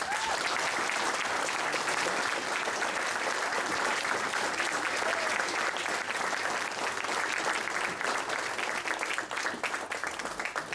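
Wedding guests applaud at a reception after a best man's speech: dense, continuous clapping from a crowd fills the room for about ten seconds, steady and fairly loud, tapering only slightly at the end, with faint voices underneath.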